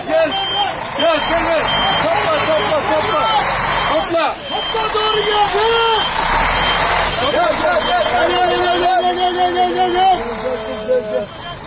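Trucks towing vehicles crawl through congested road traffic, with a loud steady engine rumble and repeating reversing beeps close by, while people talk over the din throughout.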